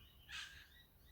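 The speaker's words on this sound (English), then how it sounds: "there's a couple of birds squawking in the background" Birds squawking somewhere in the background near Arthurs Seat in early morning, one short faint call that fades quickly over a low rumble.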